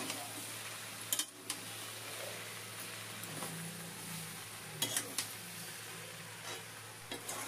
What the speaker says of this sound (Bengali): এখন এই মশলাগুলো সবজির সাথে কষিয়ে নেব।